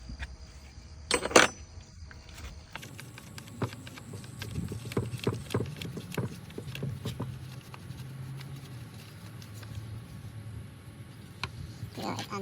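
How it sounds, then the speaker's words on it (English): A 10 mm wrench loosens the positive battery cable on a lawn mower, giving scattered close metallic clicks and taps over low background noise, with a sharp burst just after one second. "And unscrew the battery, you'll need a 10 mm wrench."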